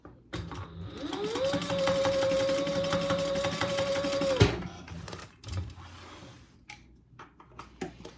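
A sewing machine stitches closed the turning hole of a fabric tote bag. It runs in one steady whirring burst with a rapid needle clatter for about three seconds, then stops, followed by scattered handling clicks and rustles.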